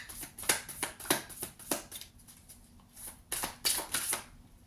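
A deck of tarot cards being shuffled and drawn, with close, crisp riffling bursts and slapping card flicks in quick irregular clusters, pausing briefly midway before another flurry.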